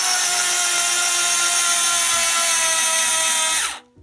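A power drill whines steadily at high speed, driving a screw into the hole of a doll's body, then winds down abruptly and stops, with faint low thumps underneath.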